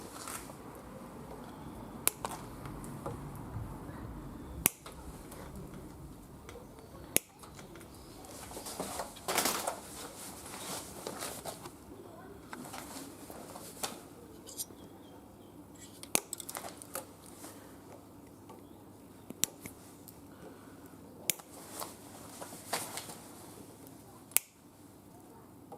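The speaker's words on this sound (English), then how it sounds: "I'm just going to go around and cut all my cable ties, all the loose ends." Sharp, isolated snips of cable ties being trimmed on an Africa Twin motorcycle outdoors, a dozen or so crisp clicks spaced irregularly over faint rustling and handling noise.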